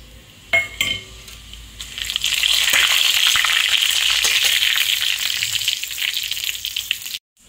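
Whole dried red chillies, bay leaf and cumin seeds dropped into hot oil in a kadai, starting with a few clinks and then a loud, steady sizzle that runs for several seconds before cutting off abruptly.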